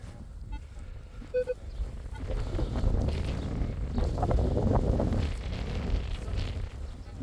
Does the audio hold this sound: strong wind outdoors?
yes